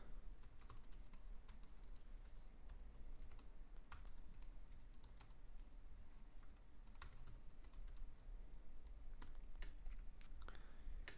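Steady, continuous clatter of fingers typing on a computer keyboard, close and clear with rapid irregular keystrokes throughout and no voices.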